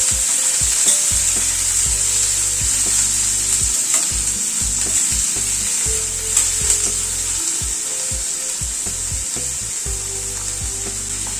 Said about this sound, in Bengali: পেঁয়াজটাকে একটু হালকা করে প্রথমে ভেজে নিচ্ছি।